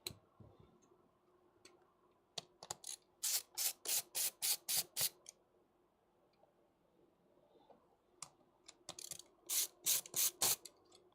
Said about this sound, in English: Get all these fan screws out.